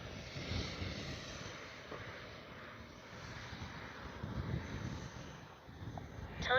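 A FLYFANS L-39 Black Diamond RC jet on 4S power roars past at full throttle, a steady wind-buffeted whoosh that swells and fades as it flies.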